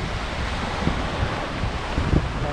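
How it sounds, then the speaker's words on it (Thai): Strong sea waves and gusting wind on the coast at Samut Sakhon, Thailand, make a steady, loud, broadband roar with no voices. "ทะเลวันนี้คลื่นแรงมาก"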